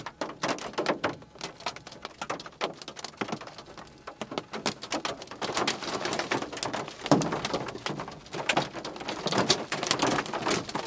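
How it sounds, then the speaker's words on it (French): Scattered raindrops patter and tick irregularly on a surface, growing denser toward the end, fairly faint with no voices. "Et là, il commence à pleuvoir."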